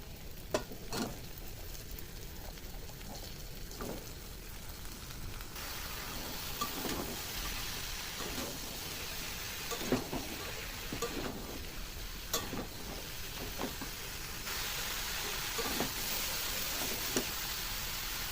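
Potatoes and bottle gourd greens frying in a hot pan with garlic, a steady close sizzle running throughout with periodic scrapes and clicks of stirring.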